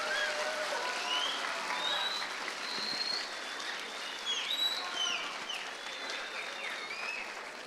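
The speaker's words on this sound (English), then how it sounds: "Let's give Mr. Antonelli a big round of applause for being here today." An audience at a school assembly with an astronaut guest applauds in a fairly distant, even wash of clapping, with high-pitched chirping squeals threaded over it.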